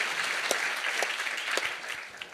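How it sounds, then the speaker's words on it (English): An audience at the Vermont Natural Resources Council's 50th anniversary celebration breaks into sustained applause, a steady moderate patter with a few sharper claps standing out. "Mard Barlow, give her another round of applause."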